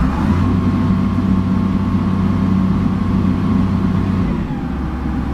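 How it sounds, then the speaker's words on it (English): An excavator engine idling close by, a steady low mechanical hum with a droning tone that drops slightly near the end, no talking. "I hope you can hear the sounds of the engine."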